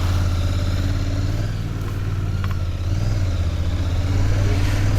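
A Royal Enfield Continental GT 650 motorcycle running as a group ride sets off: a steady, deep, throbbing engine rumble, close and loud, holding constant throughout with no voices.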